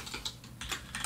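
Keystrokes on a computer keyboard while entering code in Visual Studio, a short close run of light clicks in irregular bursts with no voice.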